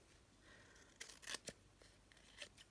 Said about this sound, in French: On va redonner un petit coup de ciseau.